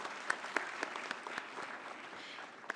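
Audience applause at a diamond jubilee ceremony, a dense, even patter of many hands clapping at moderate distance, steady for a few seconds with a few sharper claps standing out.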